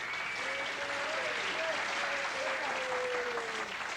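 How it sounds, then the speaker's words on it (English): Studio audience applause on a 1984 game show, steady dense clapping throughout with a faint tonal sound drifting beneath it. "Let's have a big round of applause for Skip Henderson."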